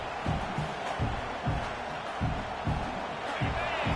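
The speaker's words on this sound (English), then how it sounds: "Listen to the crowd energy here in the early going." A steady roar from a large college football stadium crowd fills the background while a commentator talks over it.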